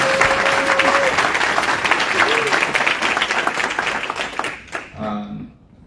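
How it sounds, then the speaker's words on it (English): Audience applause at an employer partnership luncheon, a dense sustained round of clapping that fills the room before tapering off near the end, with some voices and crowd noise mixed in. "Let's give one more round of applause for all of our"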